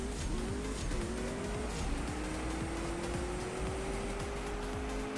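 A car in the CSR2 drag-racing game screams up through its gears, the engine note climbing, dropping at each quick shift, then rising steadily under nitrous, loud and continuous.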